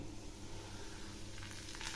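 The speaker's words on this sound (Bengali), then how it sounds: "এই সুজিগুলো আমি কড়া করে ভেজে নেব" Semolina toasting in ghee in a pan with a bay leaf and crushed white cardamom pods, a steady close sizzle and crackle running evenly throughout with no talking.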